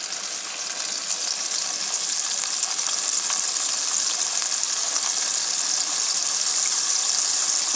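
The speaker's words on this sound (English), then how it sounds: "And we're just going to start frying it." Flour-dredged cube steak frying in a pan, giving a steady, loud, continuous sizzle and crackle with no talk, fairly close throughout.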